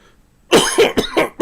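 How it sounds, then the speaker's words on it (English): A few harsh coughs in quick succession, close and loud, after a moment of near silence. "Oh, I hate coughing."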